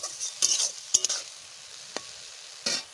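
Slit green chilies are dropped into a hot pan and stirred, giving a few quick bursts of sizzling and spoon scrapes separated by near silence.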